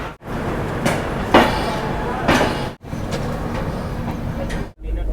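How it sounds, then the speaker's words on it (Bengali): A local train runs on its rails in India, a loud, continuous rumble with rattling surges and brief dips, close by and without speech. "চিরন্তন এই লোকাল ট্রেন"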